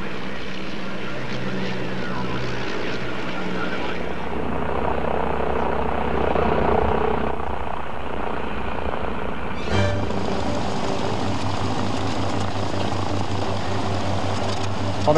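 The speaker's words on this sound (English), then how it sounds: "the DH-87 Hornet Moth, a two-seater touring biplane built in" A 1937 de Havilland DH-87 Hornet Moth two-seater touring biplane flies at the 1988 Australian Bicentennial Airshow at RAAF Base Richmond, a steady propeller engine drone that swells as it passes, with crowd noise and faint voices underneath.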